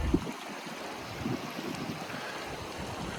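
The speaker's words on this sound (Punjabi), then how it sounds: "ਬਹੁਤ ਸੋਹਣੀ ਛੋਟੀ ਜਿਹੀ ਨਦੀ ਚੱਲ ਰਹੀ ਹੈ" A small mountain river near Leh makes a constant, moderately loud rush of water close by, with a little wind noise and no talking.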